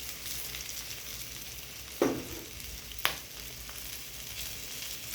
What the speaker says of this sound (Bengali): যার জন্য আমি কাঁচা লঙ্কাটা একটু ফ্রাই করে দিই।